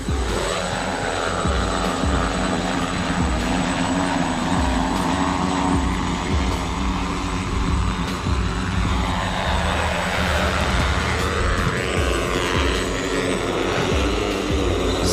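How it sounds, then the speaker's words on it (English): A Kenyan-built flying car taxi runs its engine and propellers in a loud, continuous, droning roar that holds steady throughout, with no pauses. "karibuni kwenye flying taxi inayopepea juu"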